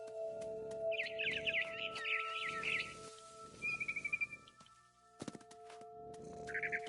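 Barn swallow chirps in a horror video game, quick bright twittering bursts over soft rhythmic thuds and a steady background tone, with a short trill midway and another chirping burst at the end.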